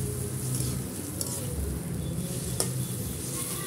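Chopped onions salted and frying in a pan give a soft, steady sizzle, with occasional stirring and a faint clink of utensil on metal, quiet and close with no one talking.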